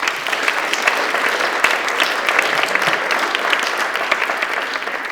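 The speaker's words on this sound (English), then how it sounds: "Let's give Aaron a round of applause." An audience at an evening fellows' presentation applauds steadily for about five seconds, a dense, even patter of clapping that fills the room, with no cheering.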